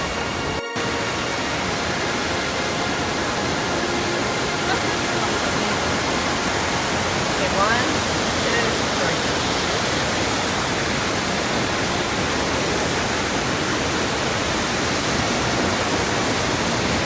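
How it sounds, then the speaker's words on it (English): Anna Ruby Falls in Georgia, fed by Curtis and York Creeks off Tray Mountain, pours over exposed granite with a steady, dense roar that never lets up, heard close and alone. "flow over exposed granite to form two extraordinary waterfalls"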